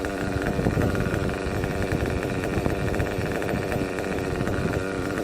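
Nitro RC engine running during carburetor tuning, a sustained buzzing, high-revving drone that stays steady and loud the whole time with slight fluctuations, no voices over it.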